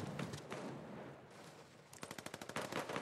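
Gunfire in the Fortnite video game: a scattered burst of shots at the start, then a rapid, rhythmic volley of a dozen or so evenly spaced shots toward the end, fairly faint overall with no talk over it.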